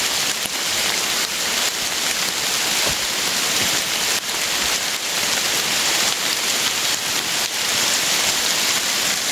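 Heavy rain pours down nonstop, a dense, loud, even hiss of drops beating on surfaces nearby.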